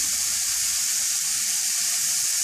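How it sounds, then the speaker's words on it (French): Carrots and peppers fry in a hot pan with a steady, dense sizzle and hiss, close and even throughout with no talk. "Donc dans la poêle, j'ai rajouté les carottes et les poivrons."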